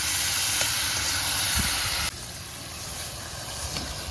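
Water poured into a hot cooking pan with turmeric, giving a steady loud hiss and sizzle that drops to a quieter simmering crackle partway through.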